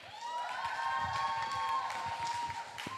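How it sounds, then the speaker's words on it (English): A crowd in a lecture hall applauds and cheers a speaker at a talk about the digital industry, with dense clapping running throughout under a sustained tonal sound. "So can we give a round of applause to Jen?"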